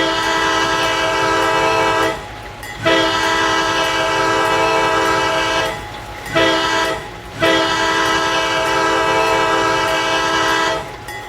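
A CSX C30-7 locomotive's K5LA air horn sounds loud and close in long sustained chords, broken by brief pauses, with no talking over it.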